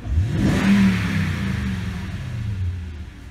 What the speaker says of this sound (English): you'll see it kick into the higher speed for just a moment while I snap the throttle